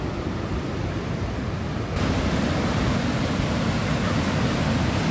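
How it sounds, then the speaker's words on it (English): A waterfall in Bragg Creek roars with a steady, dense rush of falling water, close and loud. It grows a little fuller partway through, with no voices. "Waterfalls are beautiful."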